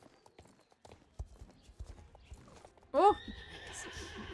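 In the video game Star Stable, faint hoof clip-clops tap along before a horse lets out a loud, close neigh that trails off into an airy ambience, with a brief spoken exclamation.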